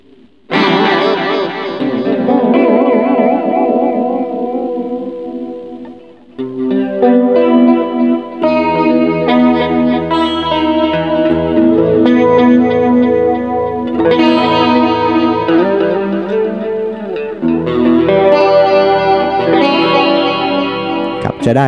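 Electric guitar played through the chorus effect of a TC Electronic Plethora X5 pedal, loud, shimmering sustained chords and arpeggios with a wavering, doubled tone and some reverb, continuous throughout with a brief pause early on.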